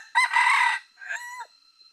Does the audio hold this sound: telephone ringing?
no